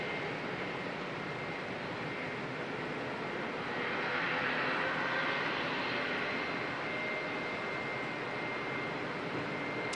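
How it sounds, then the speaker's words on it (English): Jetstar airliner pushing back at Auckland Airport before departing for Christchurch: a continuous, distant roar of idling engines that swells slightly partway through, with no voices present. "I thought I heard a Jetstar aircraft being pushed back."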